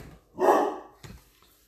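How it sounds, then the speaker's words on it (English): A single dog bark rings out nearby, followed by a fainter, shorter second yap; no talking. "dogs are going nuts"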